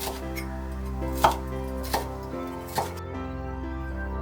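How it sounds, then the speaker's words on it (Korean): A knife chops shishito peppers and red bell pepper on a cutting board, three distinct sharp taps about a second apart over a low steady hum, with no talking. "꽈리고추는 한 3cm 정도 사이즈로 잘라주세요. 음, 홍피망도 양파처럼 납작하게 한 입 크기로 썰어주시고요."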